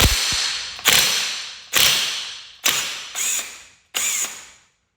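A ratchet turns a 19 mm socket on the clutch of a 2014+ Honda CRF125F dirt bike, making about six close, crisp bursts of rapid clicking, each cut off sharply before the next.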